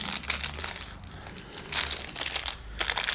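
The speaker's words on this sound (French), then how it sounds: "alors on va ouvrir le sachet" A plastic accessory sachet for a Geek Vape Blitzen RTA tank is torn open up close, giving bursts of sharp crinkling and crackling in several short clusters with brief quieter gaps between.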